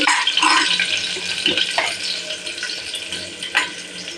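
Onions with ginger and garlic sautéing in a pan for chicken biryani, a loud close sizzle broken by the scrape and clack of a spoon stirring through the mix, with no voices.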